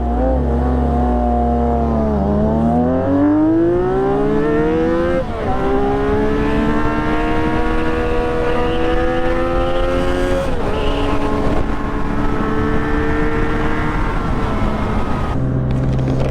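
A custom Honda CBX 1000 motorcycle engine heard while riding, loud and close throughout, its revs climbing through the gears with rising and falling pitch and a sustained drone.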